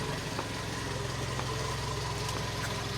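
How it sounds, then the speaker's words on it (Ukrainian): A 2007 Volkswagen Caddy 1.6 MPI petrol engine idles with a steady, low hum throughout, a smooth continuous rumble and no revving. "Двигунчик робить тихесенько, рівнесенько, гарно."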